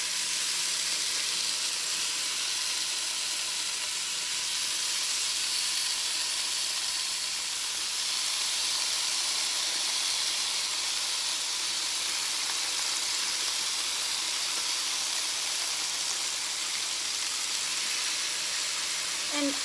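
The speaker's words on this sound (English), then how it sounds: "Can you hear that sizzle?" Chicken pieces sizzle in a Ninja Foodi Grill, a steady, even broadband hiss that holds throughout at moderate level with no talk over it.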